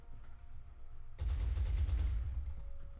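Burst of rapid gunfire from a soldier's weapon in XCOM: Enemy Within, erupting loud and close after a quiet stretch and rattling on for about two seconds before easing off.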